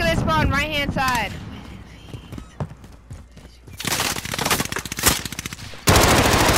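Rapid video game gunfire crackles in dense bursts, first under excited talk, then loud and sustained in the second half with a sharp final volley.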